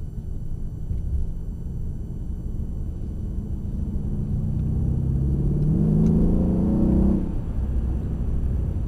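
A Mercedes-Benz CLS63 AMG drives on the Mercedes-Benz World race track, its engine a low steady rumble that swells into a rising rev before suddenly easing off, with no voices.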